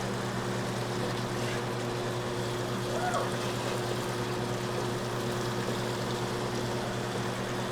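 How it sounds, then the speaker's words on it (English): A Zeco fryer filtration machine pumping crumbs and debris out of fryer oil, a steady loud mechanical hum and drone with a churning liquid wash, running continuously without pause. "We're going to go ahead and start pumping all those crumbs out."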